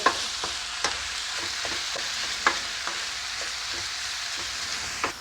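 Ground meat browns in a pan with a steady close sizzle, broken by regular sharp scrapes and taps of a utensil stirring it, no voices.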